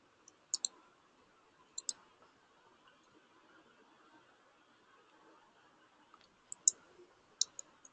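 Computer mouse clicks on a Mac, sharp faint double clicks in pairs near the start and again near the end, with a quiet room hum between.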